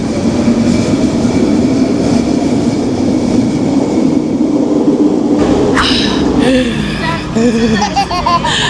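Continuous rumbling rattle of a commuter train running out of Burnaby, loud and close throughout, with voices and laughter rising over it toward the end.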